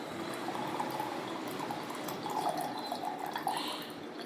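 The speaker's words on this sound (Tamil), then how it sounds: "இதை வந்து நல்லா ஒரு வடிகட்டியில் வடிகட்டிக்கோங்க" Water steeped with butterfly pea flowers is strained through a sieve, making a faint, continuous trickle and pouring sound with light drips, quiet and steady throughout.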